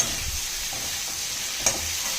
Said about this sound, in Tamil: இப்போ இதிலே போட்டு வதக்கலாம் ஃப்ரெண்ட்ஸ்